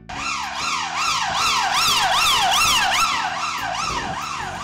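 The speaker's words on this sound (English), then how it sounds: "I bet you've seen a police car before. With bright flashing lights and a noisy siren." A police car siren wails, rising and falling in steady repeated sweeps, loud and close, continuing throughout without any talking.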